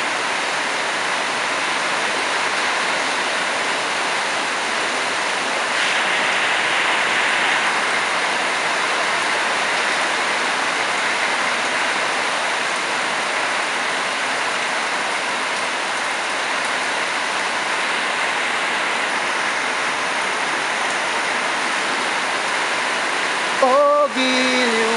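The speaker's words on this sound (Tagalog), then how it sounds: "Buhos ng ulan." Heavy rain pours down in a steady, dense hiss that holds evenly throughout, loud and close, with a brief tonal sound right at the end.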